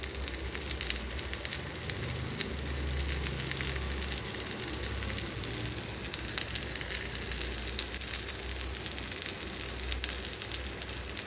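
Fish fries in hot oil, giving a steady, dense crackling sizzle that carries on evenly and up close the whole time, with no voices.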